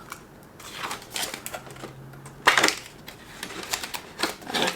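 A flimsy paper $10 bill rustles and crinkles in short, soft bursts as it is pushed into a cash envelope, with quiet handling noises between.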